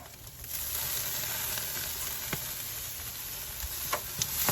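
Pork ribs sizzle steadily on a charcoal grill while being basted with a hot vinegar sauce, a continuous close crackling hiss with a few small pops and no talking.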